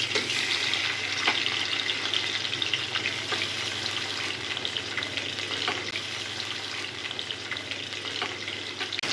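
Pieces of rohu fish frying in hot oil in a pan give a steady, close sizzle and crackle with scattered pops, continuous throughout without any talking.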